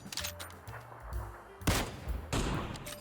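Bursts of gunfire in PUBG aimed at a vehicle, loud sharp volleys clustered in several bursts with brief gaps between them.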